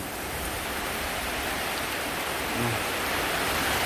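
Heavy midday rain falling over a rural Thai home near rice paddies, a dense, steady roar of hiss that stays even and fairly loud throughout, with no voices.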